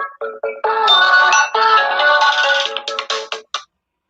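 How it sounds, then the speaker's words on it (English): A mobile phone ringtone from a spam call plays a bright repeating melody of electronic tones, loud and close, stopping abruptly after a few seconds with no talking over it. "Sorry, I didn't even realize my phone was on."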